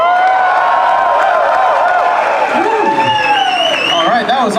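A crowd at a live show cheers and whoops for a few seconds, loud and sustained, with shouting voices and babble rising over a steady roar.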